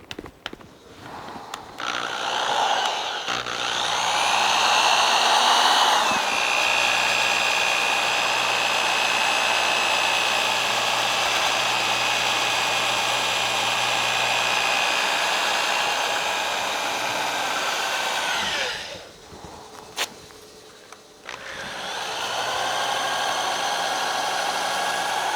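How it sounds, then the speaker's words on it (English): A power sander whirs steadily against the rim of a turned wooden piece, a loud continuous hum that starts up, runs for a long stretch, cuts off briefly, then restarts. "Let's sand the rim of our piece"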